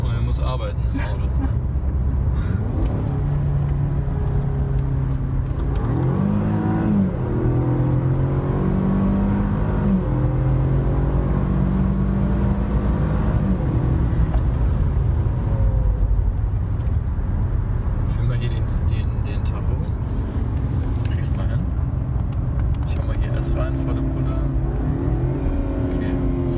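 A Jaguar XE 30T accelerates at full throttle, its engine climbing in pitch through several gear changes. The loud, continuous roar is heard from inside the cabin, with people talking over it.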